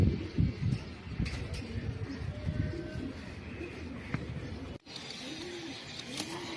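Racing pigeons coo softly at a breeding farm, with low repeated coos under a continuous rustling background and a brief cut near the end.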